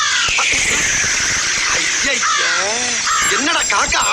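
Harsh, loud crow caws come in quick repeated bursts at a roadside tea stall, close and mixed in with people talking.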